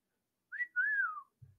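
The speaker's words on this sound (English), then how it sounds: "You can whistle to attract people" Basim gives a short two-part rising-then-falling whistle in the video game Assassin's Creed Mirage, a single clean call heard alone, followed by a soft low thud.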